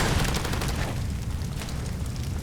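A gas cylinder blows up in the video game Far Cry 2, giving a loud, rumbling blast with a long noisy tail and no speech.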